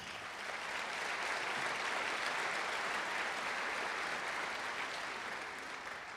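An audience applauds at a lecture, a steady wash of clapping that rises quickly and holds at a fairly soft, even level.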